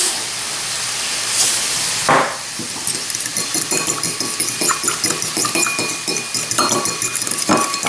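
A utensil mixes a salad sauce of olive oil, salt and pepper in a bowl, giving a run of quick, rhythmic clinks and taps on the dish after a brief hiss, close and clear.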